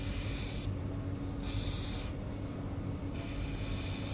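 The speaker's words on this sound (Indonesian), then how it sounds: "Kita semprot dulu bagian dalam kuncinya untuk bersihin debu-debu dan ampas-ampas karat." An aerosol cleaner, a WD-40-type spray, hisses into the ignition lock of an Isuzu Panther in bursts: steady close spraying that pauses and starts again, with no talk.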